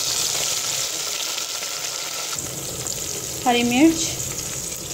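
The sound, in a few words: sizzling frying of onions, tomato and spices in pan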